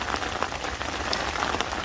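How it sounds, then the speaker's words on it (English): Steady rain drums on a surface during an autumn storm, a dense continuous patter of close drops with no voices. "we're in the midst of the storm at the moment"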